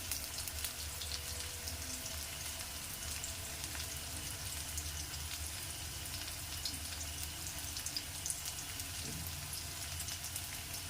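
Onions sizzle and fry in a pan, a steady crackling hiss that carries on without a break at moderate volume, with no talking.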